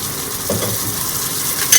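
A spoon stirs fried onions with salt and turmeric in a hot pan for an egg curry, with a soft scrape and steady sizzle and a brief clink near the end.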